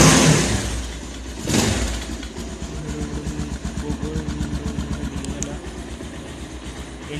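A second-hand motorcycle engine starts with a loud burst and then settles into a close, steady idle with a rhythmic pulsing chug.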